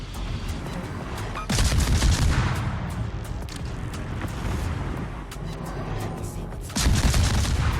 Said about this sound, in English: Gonna try and put some shots into him